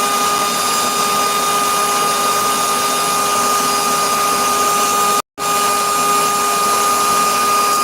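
A forging machine crushes 1-1/4 inch 4140 steel round bar down to 3/4 inch, a loud, steady mechanical roar that runs unbroken except for one brief cut-out partway through.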